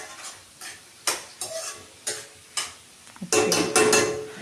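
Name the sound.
turkey berries frying and being stirred in a pan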